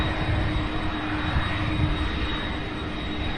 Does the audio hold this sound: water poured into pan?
no